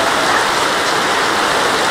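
Rain falls as a loud, dense, unbroken hiss that stays close and steady throughout, with no voices over it.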